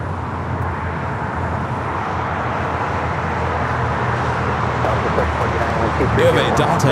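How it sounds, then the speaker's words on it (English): Low, steady broadband roar of a Delta Airbus A350-900 rolling down runway 24 left at Los Angeles airport, heard at a distance as a continuous rumble swelling slightly toward the end, with a voice talking over it. "We have a Delta A350-900 rolling down that 24 left."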